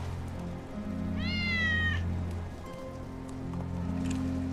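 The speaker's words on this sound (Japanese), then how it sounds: "ウェッジの猫だ。" Wedge's cat in the Final Fantasy VII video game gives a single clear, drawn-out meow over a soft, steady rain-like ambience and low background hum.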